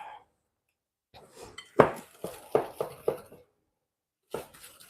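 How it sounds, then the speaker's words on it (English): A whisk beats oil and sugar together in a bowl, giving sparse, irregular metallic clinks and scrapes against the bowl, with short quiet gaps between bursts. "you want to whisk the oil and the sugar together so it starts to look like wet sand"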